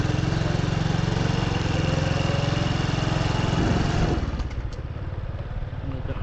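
A pile-drilling machine's engine runs at a construction site on former rice fields near a suburb, a loud, steady, close mechanical drone that drops into a rougher, lower chug partway through.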